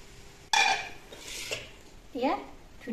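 A pressure cooker lid and metal pots are handled while a rice cake is being made: one sharp metallic clank followed by lighter scraping and clinking of cookware, close by.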